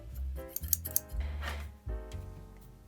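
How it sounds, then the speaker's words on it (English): Scissors trimming macrame cords on a small lavender keychain, a few quick close snips and crisp cuts in a short burst, quiet and alone without talk. "I can see some unnecessary cords here, so I will trim it."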